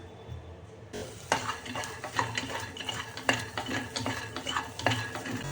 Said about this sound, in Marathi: चणे छान असे भाजून घ्यायचे, त्याच्यातला कच्चापणा आहे तो निघून जाईल